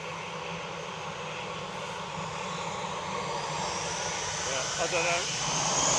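Airliner engine drone near Manchester Airport, a steady broadband roar that swells gradually toward the end, with a person talking over it.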